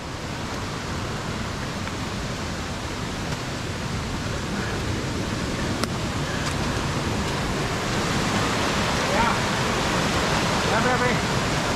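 A river flows with a steady, broad rushing roar that stays constant and fills the scene, rising slightly toward the end.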